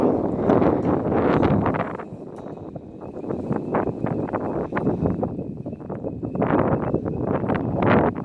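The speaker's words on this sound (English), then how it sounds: "It's pretty windy today." Gusty wind buffets the microphone in a steady low roar that swells and eases, with no one talking.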